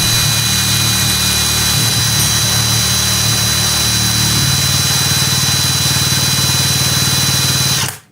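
A MEKIBOR 600 Nm cordless impact wrench runs in reverse at constant speed, giving a steady, loud motor whine and buzz that shifts slightly in pitch midway and stops abruptly at the end.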